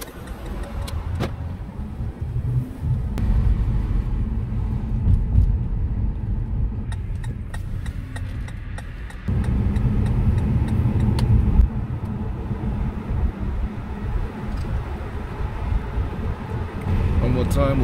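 A Mercedes W204 drives at night, a steady low engine and road rumble from inside the cabin with light ticking and clicks, the level stepping up partway through; no clear speech.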